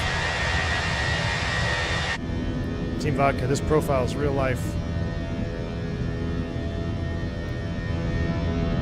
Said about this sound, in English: Listen to those engines.